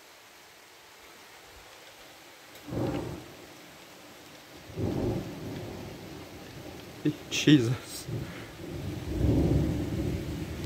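Thunderstorm over Grenoble in the Alps: several deep rumbles of thunder roll in one after another, moderately distant, with rain hiss underneath and a voice exclaiming briefly.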